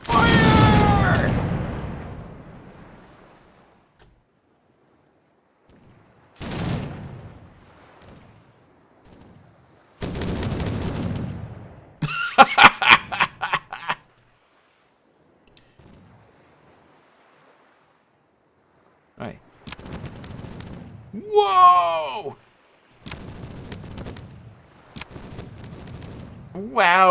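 Broadside of ship cannons in Caribbean!, a first-rate ship of the line firing in several sharp booming bursts that roll out over waves and wind, separated by quiet gaps.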